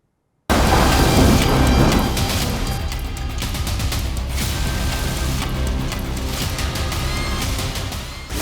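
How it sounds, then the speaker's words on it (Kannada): Heavy monsoon rain over Karnataka's Malenadu region, with swollen streams flooding the roads, makes a dense, steady roar that starts with a louder burst and then holds loud and even throughout. "ಕೆಲ ಜಿಲ್ಲೆಗಳಲ್ಲಿ ಮಳೆ ಅಬ್ಬರ ಅವಾಂತರ."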